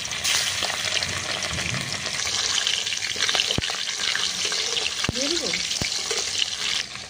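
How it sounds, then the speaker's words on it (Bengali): Tuna pieces fry in oil in a kadai with a steady, close sizzle, broken by a few sharp clicks and faint background tones. "এখানে কড়ার মধ্যে আমি মাছটা ভাজতে দিয়ে দিয়েছি।"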